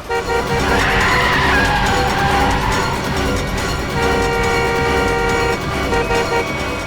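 A speeding car with failed brakes skids in a dramatic crime-drama scene, a loud continuous engine roar with tire squeal and screech layered over dense background score, holding steady for several seconds.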